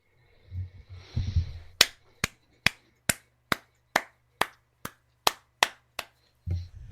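Roughly a dozen sharp, evenly spaced claps ring out loud and close, one person applauding slowly and deliberately after a short burst of muffled noise.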